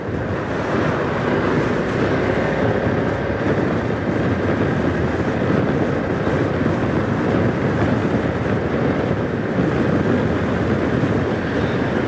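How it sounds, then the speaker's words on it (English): Constant heavy wind roar buffeting the upright rider of a 2025 BMW F900R naked motorcycle at speed, a loud broadband rush with engine and road noise blended in, steady throughout with no talk. "I am quite upright, so the wind is definitely hitting me"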